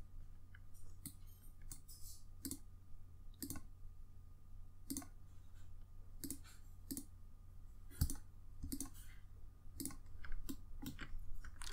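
Small, crisp computer mouse clicks repeat irregularly over a low steady hum while a user works in Maya 3D software, sometimes singly and sometimes in quick clusters, fairly close and faint.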